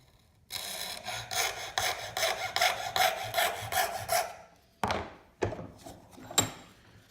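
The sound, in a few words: junior hacksaw cutting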